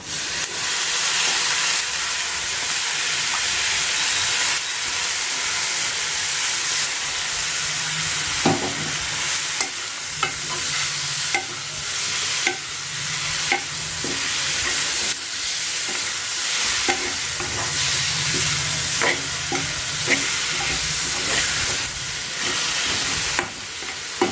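Cabbage frying in oil in a pan for a cabbage and egg curry, with a steady loud sizzle and hiss throughout and occasional sharp scraping and stirring clicks, no talking.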